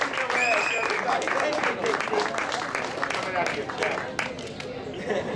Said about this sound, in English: give my brother a round of applause